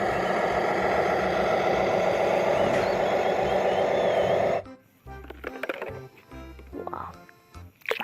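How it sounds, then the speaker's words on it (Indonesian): A toy cement mixer truck makes a steady motorized whir with faint reversing-style beeps for about four seconds, close and fairly loud, then cuts out, leaving scattered handling clatter and soft sounds. "Truk molen."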